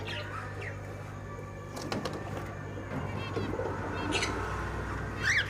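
A Giribaz pigeon in a bird shop, soft coos and brief wing flaps amid other birds' chirps, with background murmur and a steady hum.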